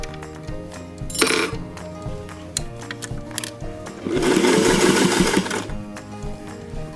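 A sewing machine stitches a seam during a one-shoulder dress alteration, running in two short bursts, a brief one early and a longer steady run near the end, with light clinks in between.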